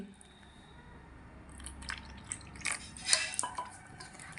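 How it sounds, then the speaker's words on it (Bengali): A small splash of water poured into a thick egg, flour and rice-flour batter in a bowl, soft liquid drips and light clinks building briefly up close before fading. "এর মধ্যে আমি আবারও একটু অল্প পরিমাণ জল দিয়ে দিচ্ছি"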